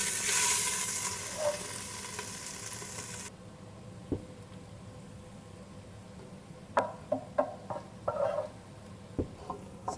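Bolognese mix goes into hot olive oil in a pot; a bright hiss of frying is heard at first, then softer sizzling with scattered knocks and scraping of a utensil stirring, close up and without talk.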